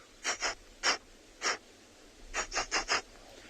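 A person quietly imitates an agitated black rhino with a series of short, breathy snorts, spaced irregularly and then in a quick run of four.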